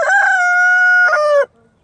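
A rooster crows loudly and close by in one sustained, harmonic call that breaks off sharply, leaving near silence.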